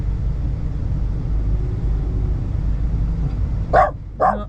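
Low RV engine rumble throughout while driving, then a dog inside barks twice at a truck alongside near the end, two sharp close barks a half second apart.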